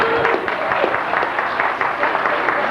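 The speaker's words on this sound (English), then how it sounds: "I think that deserves a round of applause" A reunion crowd claps together in sustained, dense applause, close and steady throughout without a break.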